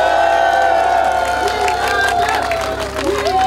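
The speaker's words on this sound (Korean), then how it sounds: "다시 한번 큰 박수를 청해 주시기 바랍니다" Outdoor campaign rally crowd for a general election, applauding and cheering loudly with whoops, mixed with voices and background music throughout.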